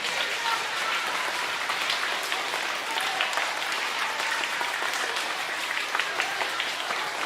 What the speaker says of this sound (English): Let's give a round of applause for the students, to our teachers, and to our principals.